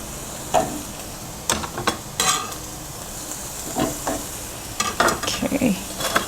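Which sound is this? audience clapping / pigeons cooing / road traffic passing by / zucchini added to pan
zucchini added to pan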